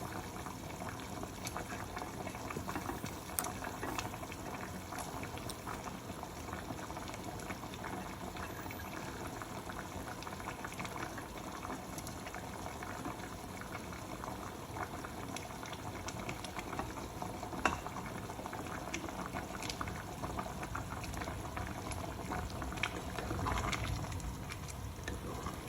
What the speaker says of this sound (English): After putting my carrots, I'll allow it to boil for just a minute